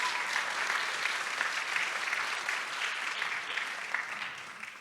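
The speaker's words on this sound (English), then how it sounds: "Let's give them a round of applause." Audience at an honorees' awards night applauding steadily, a full, even round of clapping that holds for several seconds before tapering slightly.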